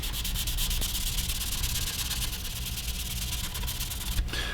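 Steel wool rubbed by hand over stained wood, a steady close scratchy hiss that holds evenly throughout with one brief bump near the end.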